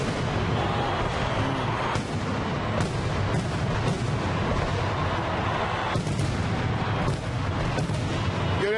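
Fireworks at a Fenerbahçe championship celebration in Kadıköy burst continuously with dense overlapping booms and crackles, loud and close, while a crowd roars underneath.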